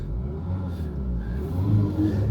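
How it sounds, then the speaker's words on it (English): A Renault Kaptur's engine runs at a steady idle right after the clutch is released, a close, continuous mid-pitched hum that rises slightly in revs toward the end, with no talking. "Engine is running."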